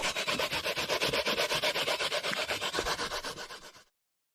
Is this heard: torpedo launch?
no